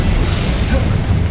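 In Hogwarts Legacy, an Incendio fire spell erupts as a loud, dense roaring burst of flame, a sustained low rumbling whoosh filling the whole moment with a slight crackle at the end.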